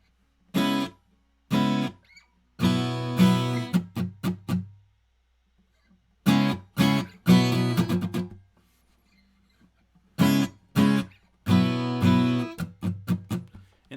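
Guitar slowly repeats the muted-strum section of a song. Three phrases of clipped, choked chord strums alternate with quick down-up strokes, separated by clear gaps of silence, played close and solo with no voice.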